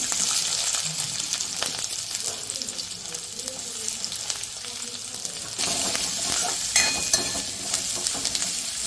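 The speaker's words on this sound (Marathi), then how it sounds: "कढई तापत ठेवलेले आहे त्याच्यात आता एक मी कांदा टाकलेला आहे" Chopped onion sizzling in hot oil in a kadhai, a continuous moderate frying hiss with occasional stirring scrapes, no talk over it.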